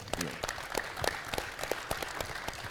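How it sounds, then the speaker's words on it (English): An audience at a business talk breaks into applause, a continuous patter of clapping running under a voice that keeps talking over it. "how about a round of applause for that?"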